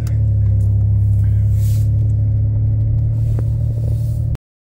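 Inside a car with 97,811 miles on it, the engine holds a steady, close, low rumble as the vehicle pulls away in drive, with no talking.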